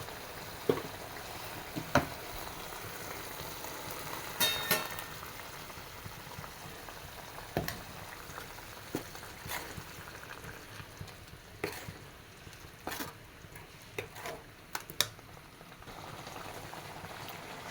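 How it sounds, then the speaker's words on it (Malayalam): A thick fish mango curry bubbles and boils steadily, with scattered louder plops and spoon clinks as ground paste is poured and stirred in. "ഇതായതിപ്പോൾ തിളച്ചിട്ടുണ്ട് ഇതിലോട്ട് നമുക്ക് ഒഴിച്ചു കൊടുക്കാം"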